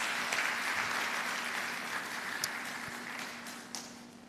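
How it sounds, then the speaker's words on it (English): Audience applause for students at a business school lecture in Lagos, a steady, dense wash of clapping from a fairly distant crowd, holding evenly throughout with a low hum underneath. "I thought you appreciate and celebrate your school by a better round of applause."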